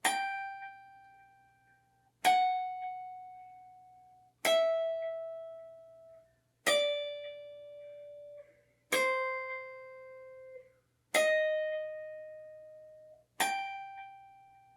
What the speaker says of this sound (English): There's the part that sounds like bells.